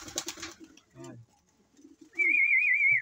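A male fancier's pigeon gives a short coo before a pause, with talking at the start and a whistle-like sustained tone near the end.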